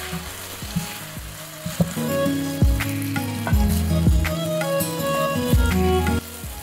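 A snack mixture with spring onions sizzles and fries in a pan while being stirred, with a spatula knocking and scraping the pan several times over steady frying.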